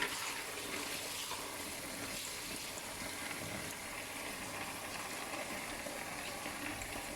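Water pours steadily while beans are washed for moi moi, a continuous even splashing and trickling that runs the whole time at moderate level, with no talk over it.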